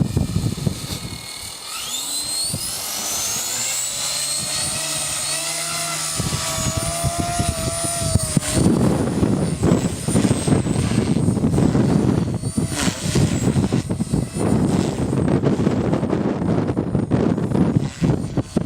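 A small Trex 250 RC helicopter flies outdoors in a park in strong wind, its rotor whine rising and falling in pitch as it manoeuvres, with heavy wind buffeting the microphone throughout.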